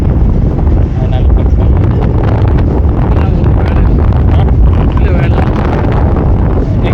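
Strong gusting wind at the Pamban bridge near Rameswaram roars loudly and continuously into the microphone, a heavy buffeting rumble with faint voices mixed into the noise.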